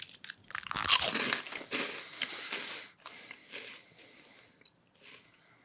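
Tohato caramel corn puffs crunch loudly and close in the mouth, with a sharp bite near the start followed by quieter, irregular chewing crunches and a sniff or two, no talking.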